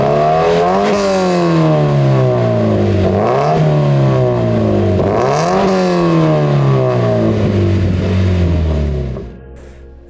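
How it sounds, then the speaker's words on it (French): A Toyota GT 86 sports car fitted with a TRD kit engine and exhaust revs loudly and close, rising and falling in about three pulls before cutting off abruptly near the end. "Avec le bruit de la voiture, ça attire des fois."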